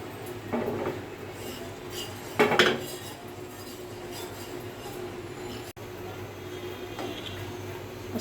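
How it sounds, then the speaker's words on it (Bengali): A pan shaken by its handle while sweets made from powdered milk fry in it, giving light metallic rattles and clinks with one louder burst of clatter, over a steady background hum. "শুধু হাতলটা ধরে একটু নাড়া দিব।"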